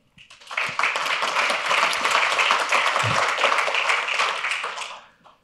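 Audience applause at a rail-industry decarbonisation round table, rising quickly from silence into a full, even crowd clap that holds for several seconds and then fades away.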